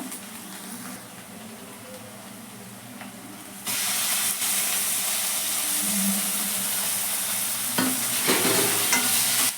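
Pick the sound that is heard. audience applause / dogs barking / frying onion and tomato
frying onion and tomato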